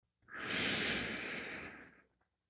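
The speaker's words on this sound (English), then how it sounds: "We are going to inhale deeply and breathe out." A person takes a single long, deep breath out as a slow, steady airy rush lasting about two seconds, close and soft, with no speech.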